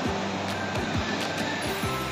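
Big ocean waves surge and wash onto a beach on a summer outing, a steady, loud broadband roar of surf with a few swelling rushes and no talk over it.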